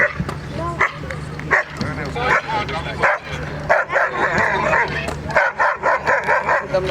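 A dog barks repeatedly during a protection trial at a dog sport event in Ahmedabad, with sharp, loud barks and some whimpering yips coming in a rapid irregular rhythm while people talk over them.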